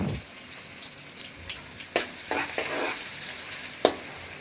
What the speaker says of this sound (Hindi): अब इसी ऑयल के अंदर मैं ज़ीरा शामिल करूँगी। ज़ीरा शामिल करने के बाद प्याज शामिल कर देंगे।